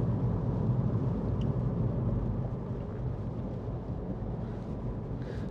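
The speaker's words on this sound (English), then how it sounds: "Very cold, very windy," Cold, strong wind roars and buffets the microphone in an exposed hilltop spot, a loud continuous low rumble that eases only slightly partway through.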